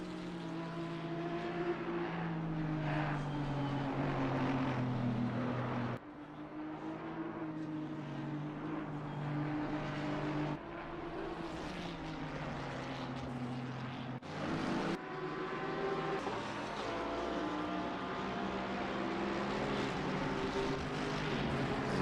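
A group of GT3 race cars battling for position at Circuit of the Americas in a sim racing game, engines droning and rising through gears in steady layered tones, with abrupt shift breaks and no talk.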